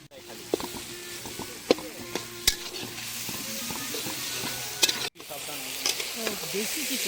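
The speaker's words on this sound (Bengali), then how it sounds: "আমার পেঁয়াজটাকে ভালো করে ভাজা হবে লাল লাল পেঁয়াজ" Onions fry in a pan during outdoor forest picnic cooking, giving a continuous close sizzle with repeated scraping stirs and sharp utensil knocks, and brief talk nearby.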